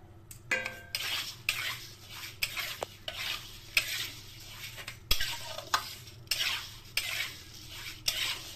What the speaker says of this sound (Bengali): ডালটা একটু নাড়িয়ে দেবো